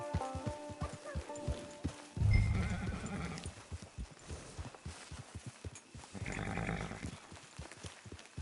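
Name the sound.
horse in Red Dead Redemption Online video game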